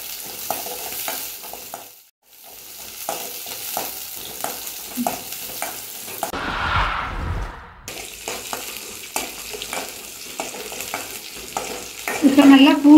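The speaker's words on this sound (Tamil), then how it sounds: "நல்லா எண்ணெயிலே வதக்கிங்க." Onions and garlic sauté in sesame oil for an herbal curry, giving a steady close sizzle with repeated scraping stir strokes, a brief quiet gap early on, and a louder burst of sizzling toward the end; no one speaks.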